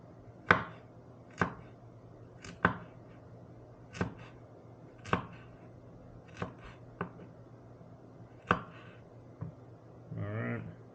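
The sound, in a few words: chopping ginger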